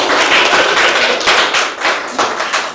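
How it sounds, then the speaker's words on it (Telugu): A dense burst of audience clapping at a youth meeting in a coaching institute, loud and close, with a brief dip midway before the applause swells again. "క్లాప్స్."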